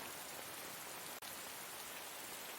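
Pouring rain in a film scene makes a dense, steady hiss that fills the whole clip without letup, broken only by a split-second cut partway through.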